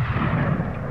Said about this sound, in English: Let's see if I can hit the wall and drop him.